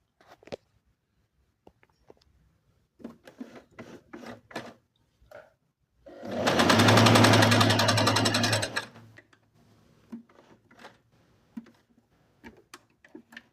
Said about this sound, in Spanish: Ahora vamos a probar el zigzag al máximo de largo y máximo de ancho.